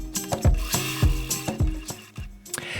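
A sewing machine quilting with short bursts of rapid mechanical stitching, stopping and starting in an uneven rhythm, close and fairly loud with clicks between runs.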